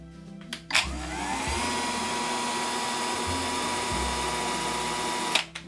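A Kraissmann 3502 AKS-BL cordless battery chainsaw spins up with a soft start and runs at a steady, fairly quiet whir for about five seconds before cutting off.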